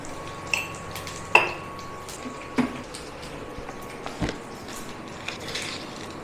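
Ingredients for dhokla fry in a pan while being stirred: a soft, continuous sizzle broken by several sharp metallic clinks of a spoon against the pan, with no talking.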